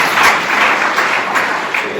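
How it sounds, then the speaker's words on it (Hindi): A church congregation at a Hindi Sunday sermon claps loudly together, a steady dense wash of applause with a few swells that fills the whole two seconds, and no voices on top. "ताली बजाइए जोर से।"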